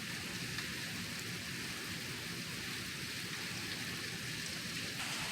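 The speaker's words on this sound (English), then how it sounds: "The rain chain is just pouring out the water." Steady rain pouring over a lake during an afternoon thunderstorm, a dense even hiss that stays constant throughout, moderately faint with no voices.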